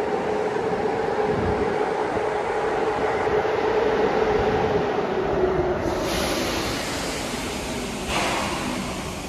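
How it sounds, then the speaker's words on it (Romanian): Steady rumble of a train idling in București Gara de Nord station as it couples to a locomotive, with continuous low machinery hum and a faint high whine running through the middle. "se atașează de o locomotiva pentru a pleca înapoi către"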